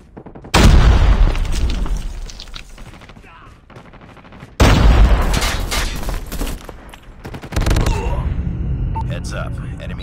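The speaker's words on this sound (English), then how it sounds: "Grenade out!" Call of Duty Mobile firefight on the Rust map, with two loud bursts of gunfire and grenade blasts that ring out and decay, then a third burst of shooting near the end.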